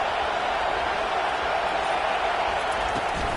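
A stadium crowd roars steadily at a college football game in the Dropout Dynasty video game, a dense, continuous wall of cheering and noise with no breaks across the few seconds.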